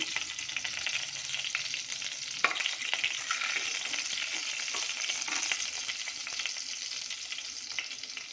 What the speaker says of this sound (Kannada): ಇದೆಲ್ಲ ಸ್ವಲ್ಪ ಚಟಪಟ ಅಂತ ಸಿಡಿಲಿ